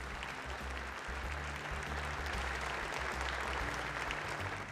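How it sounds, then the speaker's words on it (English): Steady applause from members in the Minnesota House of Representatives chamber, a dense continuous patter of clapping at moderate distance with no voices over it. "a round of applause."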